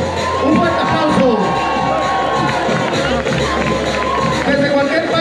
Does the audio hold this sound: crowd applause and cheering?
yes